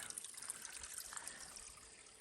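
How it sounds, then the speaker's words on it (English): A small stream trickles beside a hiking trail, a faint, steady burble of running water with no talk over it. "you find a little stream, and you can find water coming out"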